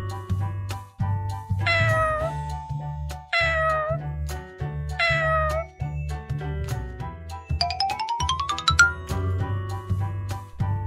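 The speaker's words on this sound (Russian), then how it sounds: "кот." A cartoon cat gives three clear, rising meows at a steady pace over a bouncy children's tune, followed by a tinkling upward chime run.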